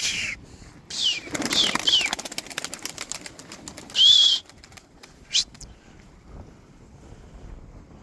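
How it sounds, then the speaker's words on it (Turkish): Pigeons in flight training flap their wings in repeated bursts, with a loud close flutter near the middle and a shorter one after, over gusty wind and outdoor background noise. "Kanat yapıyorlar kanatlarını güçlendirmeye çalışıyorum."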